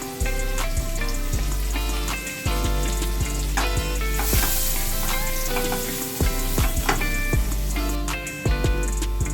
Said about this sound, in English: While this is frying, we will add a little bit of chopped garlic, around 5 to 6 cloves of garlic.